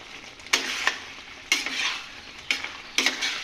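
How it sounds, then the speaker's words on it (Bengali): A spatula stirs a sticky jaggery and plum pickle in a pan, giving four distinct scraping sweeps separated by pauses, each with a wet, sizzling texture, close up with no talking. "আমি একটা খুন্তি দিয়ে ভালো করে নেড়ে নিচ্ছি, নাহলে নিচে লেগে গেলে পুড়ে যাবে"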